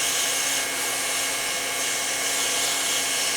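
A VEVOR 1600W hot air plastic welder blows a steady, loud, broadband whoosh of hot air while melting plastic, continuous and unbroken throughout with no talking.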